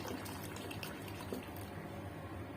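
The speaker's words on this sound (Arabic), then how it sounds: "هنبدأ دلوقتي ننزل الحليب" Milk pours steadily into rice for a baked rice pudding, a continuous soft liquid rush that is quiet and close, with no talking.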